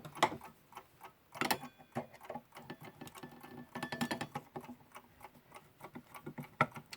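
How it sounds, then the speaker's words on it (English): A Veglia clock, freshly reassembled, ticks steadily on its own, each tick crisp and close with a soft mechanical patter between beats. "First time anyone's heard this ticking properly in a long time."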